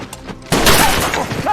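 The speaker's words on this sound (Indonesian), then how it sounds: "tiba-tiba ada seseorang yang menembak dua pria tadi" Gunfire in a film scene as two men are suddenly shot while chasing two young people, a loud broadband burst erupting after a quiet half second and rattling on densely to the end.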